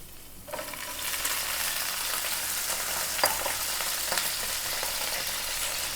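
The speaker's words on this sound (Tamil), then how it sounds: "இப்போ broccoli சேர்த்துக்கலாங்க." Broccoli, blanched in hot water beforehand, dropped into hot oil with ginger and garlic and stirred, a sudden burst of sizzling that settles into a steady loud fry with scraping stirs and a sharp clack near the middle.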